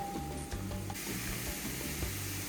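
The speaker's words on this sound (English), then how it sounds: "As you can hear, they're starting to sizzle again." Wild mushrooms sizzle and crackle in a pan on a propane grill: a steady, close frying hiss with a few brief clinks from stirring, and no voices.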